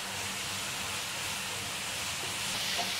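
Chillies frying in oil in a pan for chana chaat, a steady, close sizzle with a soft hiss and crackle that stays even throughout, with no talk over it.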